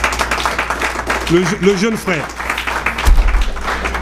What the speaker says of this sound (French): Alors j'aimerais que vous applaudissiez le symbole de cette présence ici